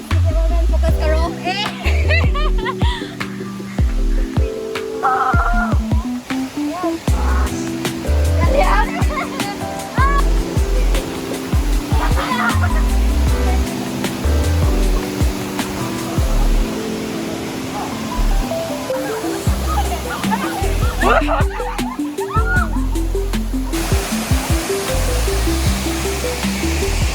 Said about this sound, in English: We are already here in the waterfall.